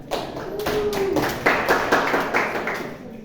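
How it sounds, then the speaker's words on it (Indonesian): A short burst of classroom applause during a microteaching lesson, several people clapping together close by for about three seconds, with a brief voice at the start. "Mari kita beri tepuk tangan untuk Mas Lukman."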